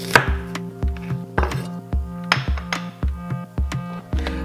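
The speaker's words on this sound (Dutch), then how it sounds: "Zet het aan de kant en pak de sucradelappen erbij om in blokjes te snijden." A knife chops beef stewing steak into cubes on a cutting board, a steady run of about a dozen sharp, close thuds spaced roughly a third of a second apart, with no talking.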